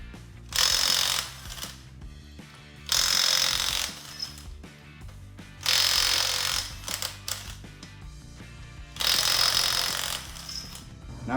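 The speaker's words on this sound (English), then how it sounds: "You're going to take your 7/8 socket and impact or breaker bar," An impact wrench with a 7/8 socket rattles lug nuts off the front wheel of a 2007-2016 Chevrolet Silverado 1500 truck. It fires four loud, close hammering bursts of one to two seconds each, with short quiet gaps between them.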